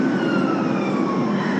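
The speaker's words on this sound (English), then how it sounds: "That was a siren, wasn't it?" A siren wails steadily in the distance over a constant broadband roar of traffic or wind, with no voices present.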